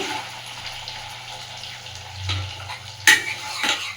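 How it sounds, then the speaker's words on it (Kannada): Chopped onion frying in oil with cumin seeds in a home kitchen pan, a steady soft sizzle with occasional spoon stirs and a sharper utensil clink near the end. "ಈ ಈರುಳ್ಳಿ ಚೆನ್ನಾಗಿ ಎಣ್ಣೆಲಿ ಫ್ರೈ ಆಗಲಿ"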